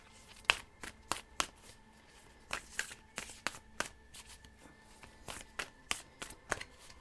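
Starseed Oracle cards being shuffled by hand, a quiet run of sharp riffling snaps and flutters repeating in irregular bursts, close and alone without talking.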